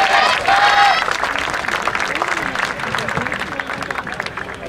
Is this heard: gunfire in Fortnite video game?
no